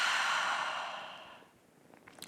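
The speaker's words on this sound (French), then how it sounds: "1 par la bouche, expire" A long, breathy exhale through the mouth at the end of a held breath during a yoga breathing exercise, loud at first and fading away over about a second and a half, then quiet.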